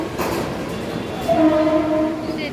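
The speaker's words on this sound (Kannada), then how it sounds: "ಟ್ರೈನ್ ಬಂತು" A train rumbles and clatters in close by as it arrives at a station, with a sustained horn-like tone sounding over the steady roar.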